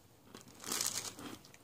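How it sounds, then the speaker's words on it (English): Biting into a crunchy oatmeal cookie, a short close crackly crunch lasting under a second, quiet and alone. "I love crunchy, crunchy cookies."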